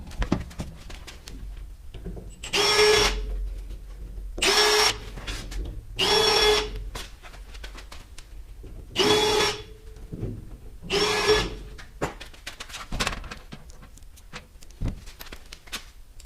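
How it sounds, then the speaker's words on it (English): A power drill whirring in five short bursts of a few seconds each, pre-drilling and driving screws into wood for a garage workbench, close and loud, with quiet workshop handling noises between them. "this way now I can pre-drill them, go back and screw them all in"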